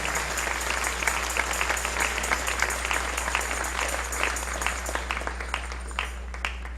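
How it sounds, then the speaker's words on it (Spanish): Lively congregation applause in a church on a Sunday morning, rapid rhythmic clapping from many hands at steady volume over a constant low electrical hum. "Dale un aplauso al Rey en esta hermosa mañana."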